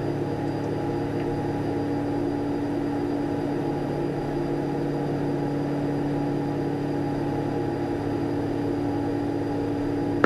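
A constant, even drone of a Tecnam P2012 Traveller small twin-engine airplane in flight, heard steadily from inside the cabin with no change in pitch.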